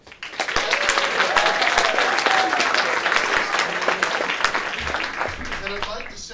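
Warm crowd applause breaks out at an awards evening, a loud, dense burst of clapping rising quickly and holding steady before tapering slightly, with voices mixed in.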